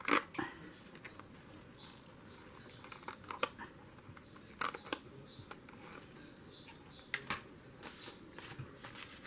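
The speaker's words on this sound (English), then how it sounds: "Scissors, scissors, scissors," Scissors make intermittent crisp snips while cutting material for a red, white and blue craft project. The sharp, close cuts come in scattered bursts over a faint rustling background.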